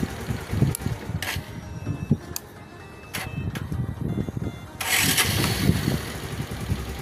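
A Bajaj Pulsar 150 motorcycle, repaired after a stalling and starting fault, runs close by with a steady low engine rumble, short sharp bursts, and a louder rev surge toward the end.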